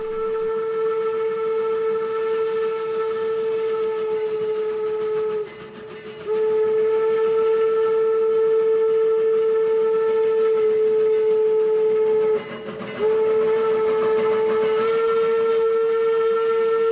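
Eureka & Palisade No. 4 steam locomotive on the Durango & Silverton line in the Rockies sounds its whistle near a highway crossing: loud, sustained, steady-pitched blasts with two short breaks, over a low rumble of the train.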